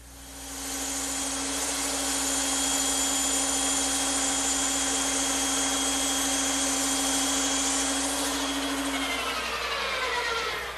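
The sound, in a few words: bandsaw cutting wooden chair pieces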